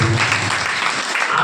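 A congregation applauds at a fasting prayer service, the dense, steady clapping filling the whole moment with a faint voice underneath.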